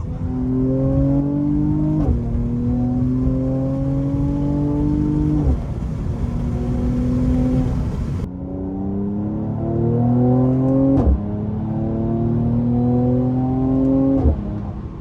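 A 2019 Mercedes C43 AMG engine revs up and drops repeatedly during downshifts, pitch climbing then falling with each shift, close and steady throughout.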